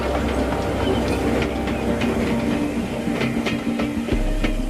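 Steam tank engines chuff along over rails, a steady rolling rumble with a low engine drone, recurring puffs and clicks, and a deeper low tone joining near the end.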